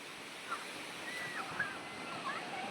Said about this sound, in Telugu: ఇదే అనమాట పూరి బీచ్. ఇది గోల్డెన్ బీచ్.